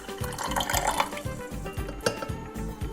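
Warm water splashes and trickles into a bowl of sugar in a steady pour while making Trinidadian doubles dough, with faint clinking from the bowl or spoon underneath.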